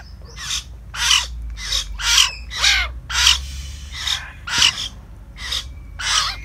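Young hill mynas give a series of about ten harsh, raspy calls in a steady rhythm, close and fairly loud, over a low background hum.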